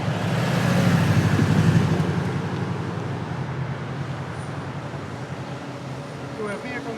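Police cars arrive in traffic. A broad, steady vehicle rumble swells and then fades as they approach and pass, and people talk over it.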